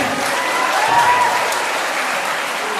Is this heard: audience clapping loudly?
yes